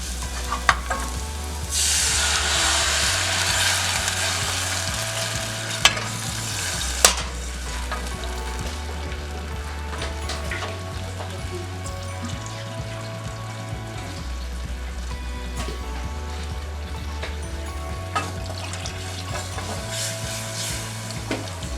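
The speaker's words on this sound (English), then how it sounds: "we're going to add in the coconut milk" Coconut milk poured into fragrant seasonings frying in a pan for a vegan Jamaican bar-b-q chunks dish, a continuous loud sizzle with stirring, joined by a low steady hum.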